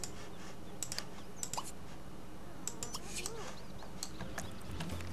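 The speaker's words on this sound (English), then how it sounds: "it sounds like he's typing a lot" Keyboard typing by a character in The Sims 2 life-simulation game, a quiet run of quick, uneven key clicks in bursts, faint under steady background game ambience.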